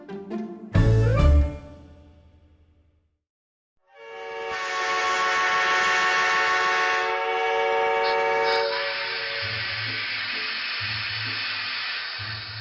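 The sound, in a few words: train whistle sound effect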